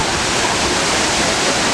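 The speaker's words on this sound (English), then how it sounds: "the sound of the water falling from the cliffs above, water cascading down and forming a stream." Water falling from the cliffs into a cave during the monsoon, a loud, dense, continuous roar of cascading water with no pauses, close and filling the space.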